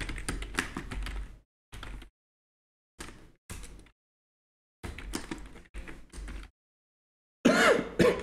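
Close, crisp key clicks from a computer keyboard as lines of text are typed into a data file for a Python coding lesson, coming in quick bursts separated by short silent pauses, with a louder, denser flurry at the end and no talking.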